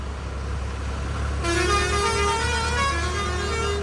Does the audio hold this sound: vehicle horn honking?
yes